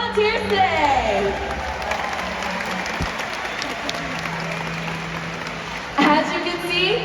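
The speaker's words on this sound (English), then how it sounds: "Let's get a round of applause for our incredible volunteers today." An audience at a SeaWorld San Antonio orca show applauds for volunteers, with clapping running beneath an amplified announcer's voice and a music sting near the end.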